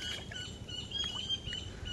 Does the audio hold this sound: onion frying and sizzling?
no